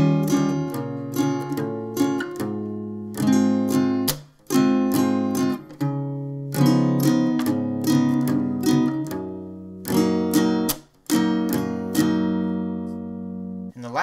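Electric guitar plays a riff from a song, loud and close, with punchy strummed chords and choppy muted stops in a driving, syncopated rhythm, alone without talk.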